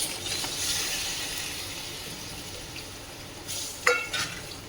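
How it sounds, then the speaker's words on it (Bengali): Bottle gourd leaves tipped into a pan of spice paste frying in oil, with a steady sizzle that fades slightly, then a brief clatter and stirring scrape near the end; no talking. "এখন আমি লাউ শাকটা দিয়ে দিচ্ছি।"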